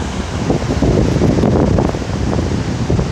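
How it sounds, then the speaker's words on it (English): Strong wind and rushing water at open beaver dam floodgates make a continuous loud roar and rumble, with gusty buffeting on the microphone and no voices. "The wind's blowing about 20, 30 miles an hour just from the water pushing it."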